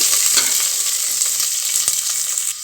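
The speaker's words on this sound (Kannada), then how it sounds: "ಇದು ಈರುಳ್ಳಿ ಚೆನ್ನಾಗಿ ಫ್ರೈ ಆಗಬೇಕು" Chopped onions fry in hot oil with a loud, continuous close-up sizzle, broken by a few sharp crackles and stirring scrapes, with no talking.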